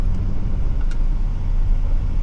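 A Toyota Premio car accelerating with its transmission in S mode, a steady loud low engine rumble and road noise heard from inside the cabin, continuous throughout with no talking.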